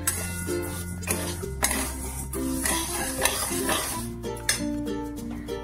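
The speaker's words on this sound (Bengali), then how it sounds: "ডালিয়াটাকেও একটুখানি নাড়াচাড়া করে নেব।" Dal and dalia (broken wheat) stirred in a pan, with a spoon scraping and clinking against the metal in repeated strokes over a light sizzle, close and fairly loud.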